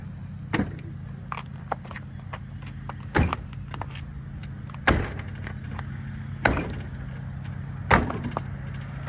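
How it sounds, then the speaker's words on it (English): Five firm foot kicks against a stuck front wheel on a 2012 Ford Fiesta during a brake and rotor job, each a dull thud spaced about a second and a half apart over a low background hum. "give it some firm kicks, top and bottom, with the flat of your foot, and that'll help to knock it loose"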